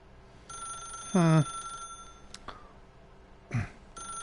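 A telephone rings in The Stanley Parable video game: faint steady electronic tones with two short, louder sung bursts where a voice imitates the ringing, separated by quiet clicks.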